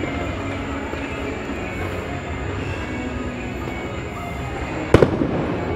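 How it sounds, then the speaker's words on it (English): Fireworks go off at Disney's Hollywood Studios, heard as a dense rumbling crackle under loud crowd noise, with a sharp bang near the end, all fairly distant. "Ooh, fireworks."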